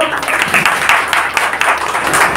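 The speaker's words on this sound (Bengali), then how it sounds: "আপনার জোরে করতালি হোক" An audience at a Bengali jatra opera troupe's opening ceremony claps in a brief, close burst of quick, uneven applause.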